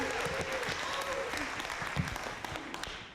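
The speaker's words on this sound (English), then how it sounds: "by a round of applause, how many here have heard the little child jingle, Twinkle, Twinkle, Little Star?" Audience applause from a seated crowd: a moderate, continuous patter of clapping that fades slightly toward the end, with a few murmured voices underneath.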